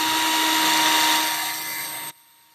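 A power drill whines steadily at high speed while fixing an ATV axle, loud and close, slowing slightly before cutting off abruptly near the end.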